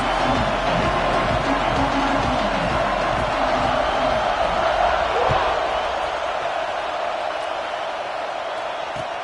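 A college football stadium crowd roars in a video game, a broad, steady wall of cheering noise that holds at a constant level throughout with no clear talk on top.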